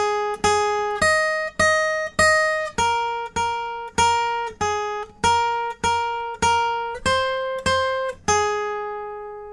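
Guitar plucks the third line of a song's melody: a dozen or so bright, evenly picked single notes, sustaining and fading in a steady rhythm, with no voices.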